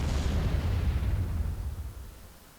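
Bombing-run explosions in the Star Wars Empire at War Clone Wars mod, a heavy rumbling boom that starts loud and rolls off over a couple of seconds, with no talk.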